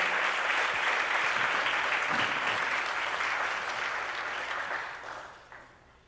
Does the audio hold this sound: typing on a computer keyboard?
no